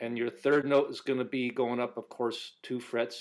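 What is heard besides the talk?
No distinct noise like a dog, phone or traffic.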